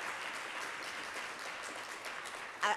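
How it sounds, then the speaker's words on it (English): A keynote audience claps after a speaker on happy families, a sustained, moderately loud round of applause with a brief louder bump near the end. "could we just give him another round of applause?"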